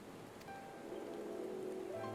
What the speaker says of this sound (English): Damn rainy-ass weather is ruining the cutscene.